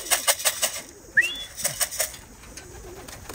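Racing pigeons at their loft coo in soft repeated pulses, close by, with a brief wing flap midway and faint background hiss.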